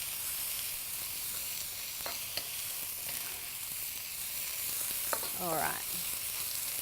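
Beef mince noodles sizzle steadily in a hot wok as a quiet, continuous frying hiss, with a few stirring clatters and scrapes and a brief spoken word.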